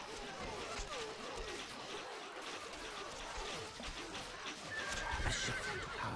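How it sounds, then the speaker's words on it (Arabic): A horse whinnies and hooves clip-clop at a gallop amid busy game sounds in Stronghold: Crusader, with a brief high tone toward the end. "الفرس تعدو"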